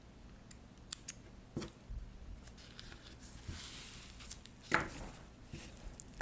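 Scissors snip cotton yarn during crocheting of a small flower keyring, giving several close, quiet crisp cuts spread unevenly over a few seconds against a soft, hushed background.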